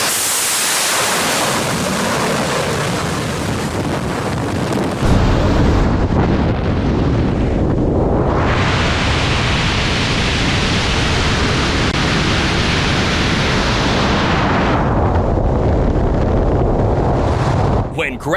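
A carrier jet launches off an aircraft carrier deck with a loud, roaring, broadband blast that holds steady, surges and swells twice, then cuts off abruptly at the end.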